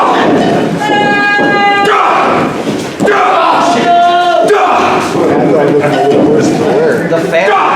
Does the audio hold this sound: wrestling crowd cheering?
yes